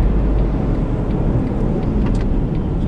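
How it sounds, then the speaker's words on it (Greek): A 2010 Smart Fortwo 451 with a 1.0-litre 84 hp engine brakes hard from 100 km/h at the ABS limit, heard from inside as a loud, steady low rumble of road and tyre noise, with no talk. "Από τα 100 χιλιόμετρα την ώρα θα πατήσω δυνατά το φρένο."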